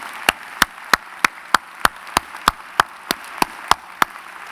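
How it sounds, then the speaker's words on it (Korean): Rhythmic unison clapping from a church congregation during a Sunday service: about fourteen sharp, evenly spaced claps at a steady beat, with no talking over them. "우리 뜨거운 마음으로 우리 박수 한번 해주시겠습니다"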